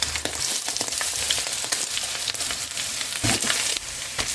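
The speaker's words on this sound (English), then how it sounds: "Fry eggs, bacon, add the onion and the other vegetables, then the rice" Eggs, bacon, onion and vegetables frying together for egg fried rice give a loud, steady sizzle broken by scraping stirs and clacks of a utensil against the pan.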